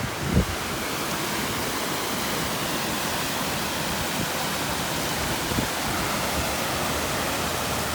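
A waterfall on a trail in Baxter State Park rushes in a steady, full, broadband roar, close and constant throughout with no voices.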